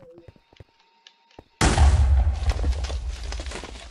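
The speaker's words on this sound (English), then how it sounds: "Oh, that was a false explosion" Loud explosion in a horror video game with animatronic characters, bursting in suddenly after a quiet stretch of faint game sounds and a brief voice, then a long rumbling roar that slowly fades.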